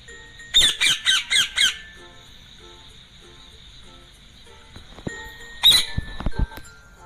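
A parrot squawks in five quick, shrill bursts in a row, pauses through a quiet stretch with a thin whistle, then gives one more harsh squawk followed by a few clicks, all loud and close.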